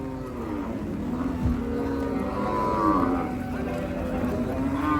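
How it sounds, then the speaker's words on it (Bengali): A cow moos in a long, steady, drawn-out call close by at a Bangladeshi cattle market, with a low rumbling background throughout. "খুব সুন্দর একটা সার গরু আছে দেশি সার চমৎকার"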